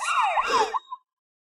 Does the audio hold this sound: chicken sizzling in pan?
no